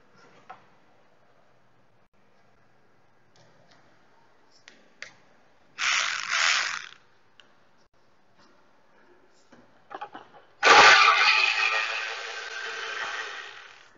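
A ratchet loosens the valve cover bolts on an Audi A4 2.0L BWT engine, giving two bursts of rapid close clicking separated by quiet gaps with a few isolated metallic taps.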